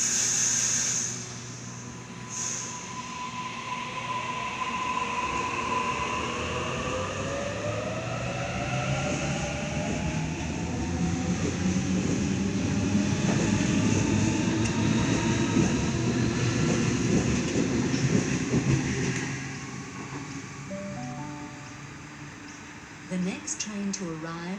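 A train pulls through Killara station platform with a long rising and falling rumble, wheel squeal and whining motors, close and loud, followed by a short chime near the end.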